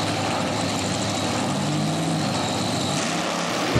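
Drag racing cars, a Fiat Topolino and a Chop Top 1941 Willys, roar down the strip at Beech Bend Raceway during a Hot Rod Reunion, a continuous loud engine drone holding steady throughout.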